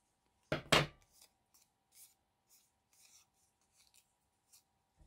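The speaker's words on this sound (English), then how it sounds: "I kind of want to keep these threads a little bit longer, so I don't want to get them in the mix of my cutting or clipping." Scissors trim threads on a sewn junk journal envelope: one crisp, close snip, then a run of faint, scattered clicks and light rustles of paper and thread in an otherwise quiet room.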